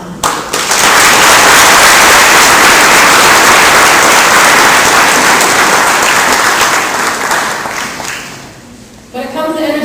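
Loud, sustained audience applause fills a city hall State of the City address in Fitchburg, a thick clapping roar that slowly tapers near the end before a voice returns.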